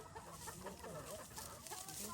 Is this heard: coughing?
no